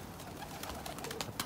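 Pigeons coo softly at night, a few faint low calls over a quiet background, brief and somewhat distant.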